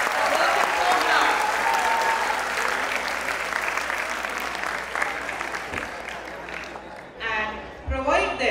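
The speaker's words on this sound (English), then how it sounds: "They deserve a huge round of applause for working so hard." Sustained applause from a large crowd, steady and loud for several seconds before tapering off, with a few voices and cheers near the end.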